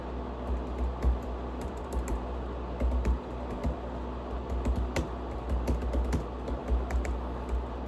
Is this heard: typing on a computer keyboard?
yes